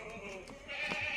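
Malabari goat kids bleating near their mother, a short, faint, high bleat over quiet background.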